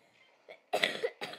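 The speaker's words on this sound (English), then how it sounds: "cough." A person coughs nearby, quietly and briefly, in two or three short bursts during gameplay commentary for the car-battle game Crash of Cars.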